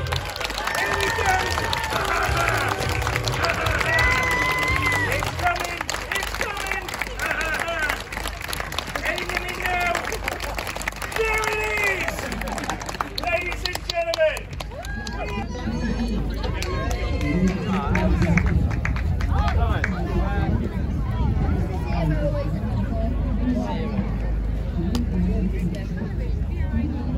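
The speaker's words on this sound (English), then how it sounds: "come on, start clapping now" Audience clapping along at an outdoor show at the North Somerset Show near Bristol, a dense, continuous rhythmic patter mixed with crowd noise and music, with a presenter talking over the start.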